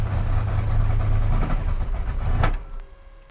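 A tuned car engine idles with a steady, close low rumble that drops away sharply near the end, leaving only a faint hum.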